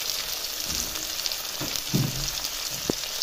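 Tomatoes fry with fish curry in a pan, giving a steady close hiss and sizzle with a few soft stirring knocks and pops.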